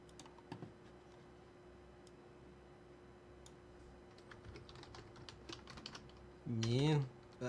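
A computer keyboard clicks in scattered, quiet keystrokes at close range, sparse at first and then in a denser burst, with a short vocal sound near the end.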